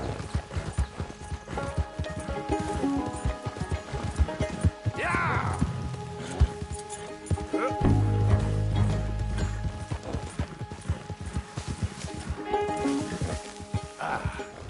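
Horse hooves clip-clop in Red Dead Redemption 2, with a brief whinny or snort partway through, set against a steady game ambience and occasional mechanical clicks.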